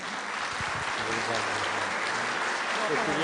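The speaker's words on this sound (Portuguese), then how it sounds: "Uma salva de palmas, Otacílio." An audience at a Spiritist talk in São Carlos applauds continuously, a dense, even clapping that holds steady from start to finish.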